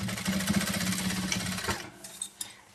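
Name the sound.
sewing machine stitching a straight seam on a pencil case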